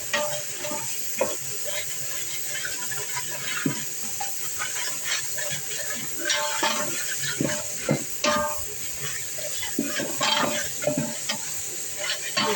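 Mint and spices frying for biryani in a home kitchen, a steady close sizzle and hiss with frequent scraping stirs against the pan throughout.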